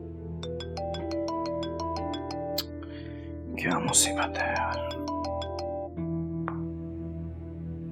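A phone ringtone repeats its melodic tone pattern throughout, moderately loud and close, while a person speaks briefly over it in the middle.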